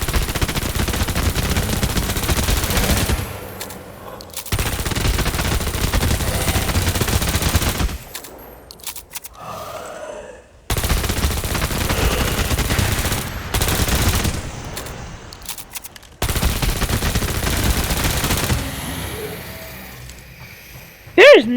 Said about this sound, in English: I guess we gotta start shooting!